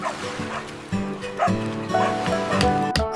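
A dog barks in quick repeated yips and barks amid a storm by the sea, close and loud over a rushing surf-like background.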